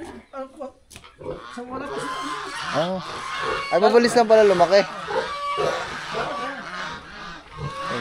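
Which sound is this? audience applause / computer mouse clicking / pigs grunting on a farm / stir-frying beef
pigs grunting on a farm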